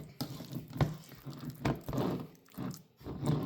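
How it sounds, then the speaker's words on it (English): Egg salad being stirred and folded in a bowl, giving soft wet squishing strokes that repeat in an uneven rhythm, close and fairly quiet. "you can then slowly start stirring the egg salad."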